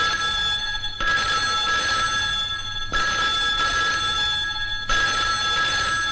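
An old-style telephone bell rings indoors in a 1995 Hindi film scene, loud and close, in three long bursts separated by short pauses, with no voices over it.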